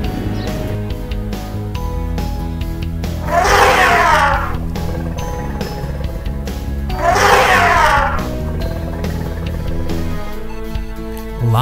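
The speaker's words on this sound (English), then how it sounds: "Elephant." A toy safari elephant gives out a synthetic trumpeting call twice, each a loud harsh blast lasting about a second, over a steady electronic background.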